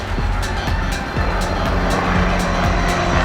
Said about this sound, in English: a helicopter went by